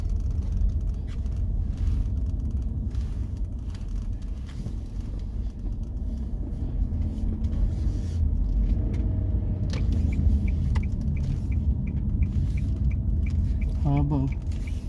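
Road traffic in Victoriaville, Quebec, a continuous low rumble of passing cars that sits close by, with a few faint knocks and squeaks over it.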